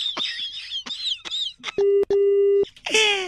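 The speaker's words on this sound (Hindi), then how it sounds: "आज फोन कट गया" A telephone call on a radio prank segment cuts off: brief voices give way to two steady electronic beeps, the first short and the second longer, loud and clear, followed by a final burst of voice.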